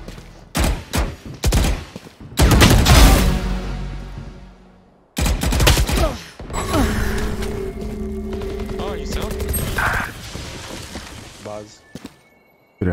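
Phantom rifle fire in Valorant comes in several close bursts of rapid shots, with short taps early and a longer sustained spray mid-clip, heavy and punchy, alongside game effects and a person talking.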